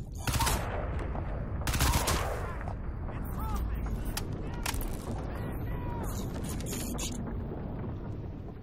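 Enemies in cars open fire in Crysis 2, a dense stream of gunshots and bursts over rumbling engines and mechanical clatter, with a voice partly heard beneath the din.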